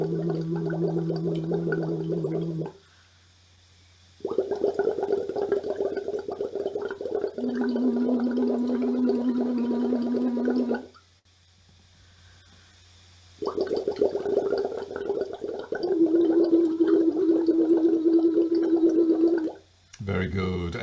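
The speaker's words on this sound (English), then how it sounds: "And if you're listening, the sound of the bubbles stayed the same." A person hums while blowing through a straw into water, making a bubbling gurgle under a steady voiced tone, in three long stretches separated by pauses for breath.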